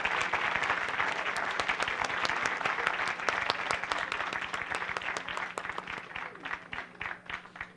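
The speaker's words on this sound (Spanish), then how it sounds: "Brindémosle un fuerte aplauso" An audience at a national congress of criminologists and criminalists breaks into sustained applause, dense clapping from many hands that holds steady and then thins toward the end.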